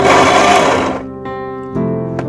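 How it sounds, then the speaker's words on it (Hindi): A mixer grinder purees hot masala in a loud, dense whir that cuts off after about a second, followed by two short, sharp bursts as the motor is pulsed again. "थोड़ा सा आपको बहुत ही केयर के साथ मिक्सी चलानी होगी"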